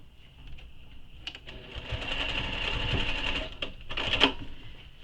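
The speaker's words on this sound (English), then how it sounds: "you can then take it to your machine and baste across the top edge here" Sewing machine basting a line of stitches across the top edge of fabric, a close, steady whirring hum that builds and runs for a few seconds, then slows with a final clunk.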